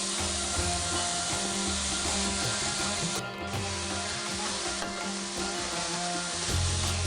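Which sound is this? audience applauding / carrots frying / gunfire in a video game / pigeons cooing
carrots frying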